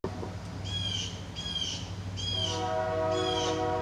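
Birds chirp in repeated bright phrases outdoors while a train draws near, its low rumble swelling and a steady horn-like tone rising in the second half.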